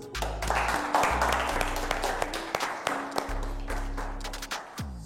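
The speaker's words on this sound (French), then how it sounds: "Applaudissez pour eux." Crowd applauding during a live manga and anime show, a spread of claps over a low rhythmic music bed with thumping beats, continuing for about five seconds.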